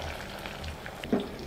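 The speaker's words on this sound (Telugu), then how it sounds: "ఇప్పుడు కొద్దిగా ఉల్లిపాయ ముక్కలు వేసుకుందాం." Onion pieces fry in hot oil alongside green chillies and garlic paste for a red cabbage vegetable curry, giving a steady soft sizzle with a small pop near the end.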